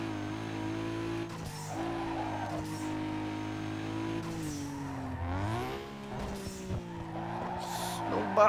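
A Nissan Skyline's engine drones steadily in Need for Speed Underground 2 while the tires squeal and skid through long drifting slides, and the engine pitch rises and falls.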